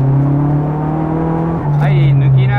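A race car accelerates hard on a circuit during driver training, its engine tone steady and loud, then climbing in pitch as it picks up speed, close and dominant.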